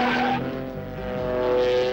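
Race cars at speed, loud and continuous, a steady engine roar with tonal whine and a hint of tire scrubbing as they slide through a bend.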